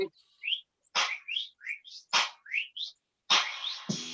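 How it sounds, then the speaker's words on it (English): Bird chirps on a music track, a string of short separate calls spaced through the passage, clear and fairly close, followed by a louder broadband burst at the end. "the birds chirping on the track, we got to talk about that"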